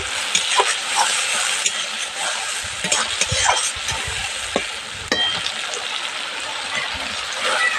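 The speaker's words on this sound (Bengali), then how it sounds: "ভালোভাবে পেঁয়াজের সঙ্গে এই টমেটো বাটারটাকেও আমি কষিয়ে নেব" Tomato paste sizzles in a pan with onion, ginger and garlic for a village-style mutton curry, a steady frying hiss broken by scraping stirs throughout.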